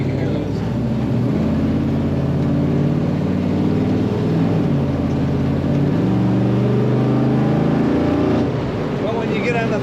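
A 1937 Chevrolet pickup street rod engine rumbles and revs through a stack exhaust behind the cab, rising and falling in pitch a few times with a deep, throaty thump.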